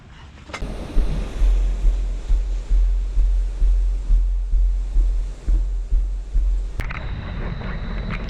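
Ocean surf at a beach in Broulee, New South Wales, Australia: waves roll in and break repeatedly in a steady rhythm of swells, loud and close, with wind buffeting the microphone and no talking.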